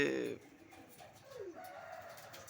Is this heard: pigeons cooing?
yes